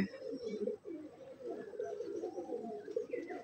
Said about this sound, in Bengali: মশাল কবুতর আমার প্রিয় কবুতর